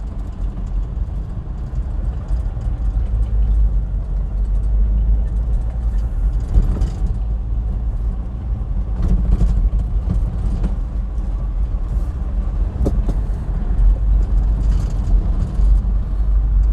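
A 1995 Toyota Hilux 2WD utility with a five-speed column gear change drives along a road. A steady, loud engine and road roar runs throughout, with faint mechanical clunks from the gear changes rising briefly above it.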